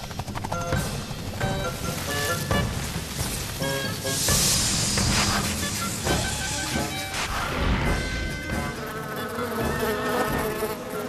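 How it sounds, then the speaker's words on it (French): Bees swarm and buzz in a dense, continuous drone that layers over a busy cartoon soundtrack with music, crashes and whacks throughout, loud and steady. "Les abeilles!"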